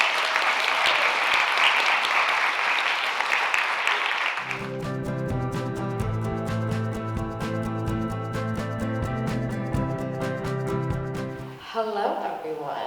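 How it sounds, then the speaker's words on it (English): Audience applauding panel guests at a young women's leadership conference, a dense, loud clatter of clapping for about four seconds before it gives way to music or talk. "let's give our guests a round of applause"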